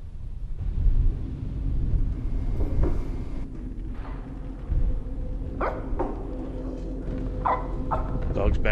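A dog in the video game Supernatural barks several times in short bursts over a low rumbling ambient backdrop, with a voice talking at points.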